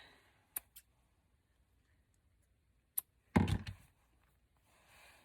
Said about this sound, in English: I'm just going to tie a simple knot on the back side of this. Really, really simple. And cut off the excess.